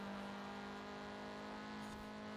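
A car engine holds a steady drone as it climbs a hill on the final lap of a track race, one continuous tone that stays loud and unbroken throughout.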